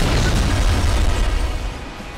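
A car crash explosion in the racing game Burnout 3: Takedown: a loud, sustained deep boom with crackling, rumbling debris that fades slightly over about two seconds.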